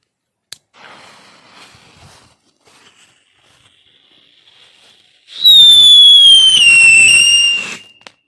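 Klasek Scream Maxi DP2W whistling firecracker: a faint crackle and hiss at first, then a loud piercing whistle that holds for about two seconds, slowly dropping in pitch before it cuts off.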